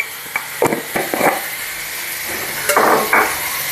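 A spatula scrapes and taps through a roasted podi masala mixture in a pan with the stove off, giving several short scraping strokes in two clusters over a soft steady background hiss.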